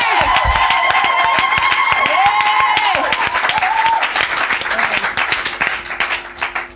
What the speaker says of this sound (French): j'aimerais entendre des acclamations des jeunes